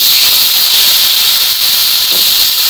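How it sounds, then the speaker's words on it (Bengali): Potato pieces fry loudly in oil rendered from pangas fish in a wok, a constant bright hiss and sizzle that holds steady throughout, close up. "এবার মুড়ি ঘন্টের আলুটা ভেজে নেব"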